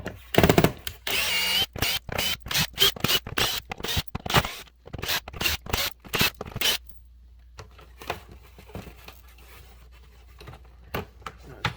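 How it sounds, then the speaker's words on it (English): A power screwdriver pulling fourteen Phillips screws from a GE dryer door, GFD55/GFD65/GFD85 series, in a series of short, loud, rhythmic whirring bursts separated by brief pauses, then quieter scraping and handling, with no talk. "now we got 14 Phillips screws that we got to pull out"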